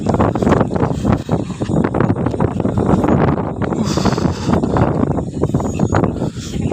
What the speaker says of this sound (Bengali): আর ঝড়ও উঠে গেছে দমে।